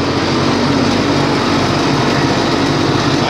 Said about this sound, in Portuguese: Não sei se para vocês aparece o barulho do motor aí, mas ele tá com barulho oco.